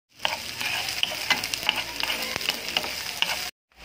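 White onions sautéing in hot olive oil, a steady close sizzle broken by frequent scraping strokes of a spatula, then cut off abruptly near the end.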